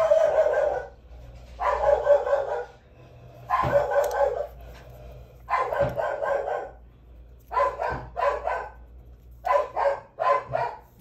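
A dog barks in a series of short bursts and paired yaps, fairly close and loud, repeating steadily with brief pauses between them and no talking over it.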